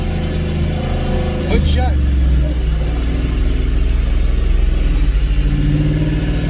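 Gen 3 Ford F-150 with a 10R80 transmission revs on a dyno in 4th gear, a loud steady engine drone with a rising pitch sweep, and voices speak over it.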